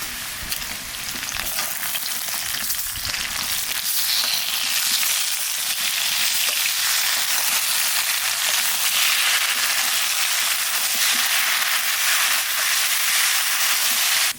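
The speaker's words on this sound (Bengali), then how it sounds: "এত সুন্দর ওল ভাজতে ভাজতে গেলে গলে গেছে ওলটা একটু বাজিয়ে নিছি" Elephant foot yam frying in a pan, producing a loud, dense, unbroken sizzle and hiss of hot oil that holds steady up close for the whole stretch.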